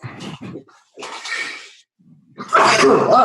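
Sharp, explosive sneezes close by, a couple of bursts separated by brief pauses, with a loud one at the end.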